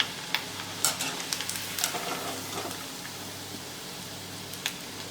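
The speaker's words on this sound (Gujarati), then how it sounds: "આ મુઠિયાને આપણે તળવા દેવાના આમ જ." Muthiya dumplings for Gujarati undhiyu frying in oil over medium heat in a wok, giving a soft, steady sizzle with scattered small crackles and pops, fairly quiet and with no voices.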